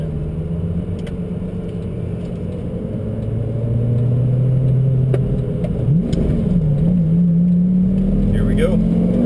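Lamborghini Gallardo engine heard from inside the car, a loud steady rumble that rises in pitch and then drops and climbs again as it shifts to the next gear, with background talk.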